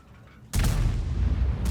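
A single heavy boom of a Jagdpanzer E 100 tank destroyer's cannon in World of Tanks erupts after a moment of quiet, followed by a sustained low rumble and crackle that carries on to the end.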